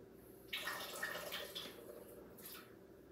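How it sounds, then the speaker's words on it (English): Liquid is poured from a measuring cup over food in a home kitchen, a soft splashing trickle starting abruptly, running for about a second and a half, then a brief second splash, quiet and close. "Just pour it right over everything now."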